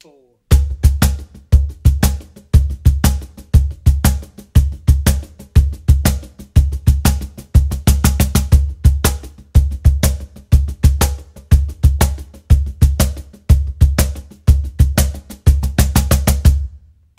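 A cajon plays a steady blues shuffle groove with deep bass accents, a loud, close, continuous rhythm of sharp slaps and booming low hits played alone.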